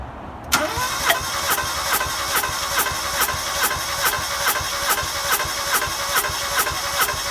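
A car engine cranks steadily on the starter during a cylinder compression test, its rhythmic pulses repeating evenly after an abrupt start and continuing loud and close throughout.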